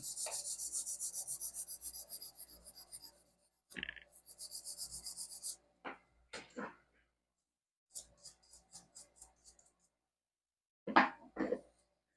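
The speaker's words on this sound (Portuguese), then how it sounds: "Depois, vamos lixar a ponta." Nail file rasping across the tip of a nail extension built on F1 and Russian-style forms, with close, brisk back-and-forth strokes in several bursts separated by pauses, with no talk.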